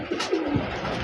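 At a Bangladeshi pigeon farm, a pigeon gives a brief low coo, a short, throaty burble heard nearby over faint background noise.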